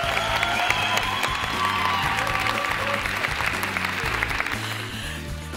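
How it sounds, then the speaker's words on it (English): Sustained applause from a debate audience voting for the affirmative team at a women-in-management event in Canberra, steady dense clapping throughout with a low hum of the hall beneath. "please clap now"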